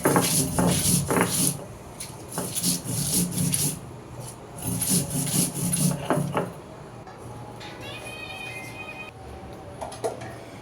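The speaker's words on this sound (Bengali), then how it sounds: "প্রথমে মরিচটা আমি ভালোভাবে ডলে নিব, বেটে নিব।" Chillies are rubbed and crushed by hand for shutki bhorta, giving close, rhythmic rasping and grinding strokes in bursts, easing into softer scraping near the end.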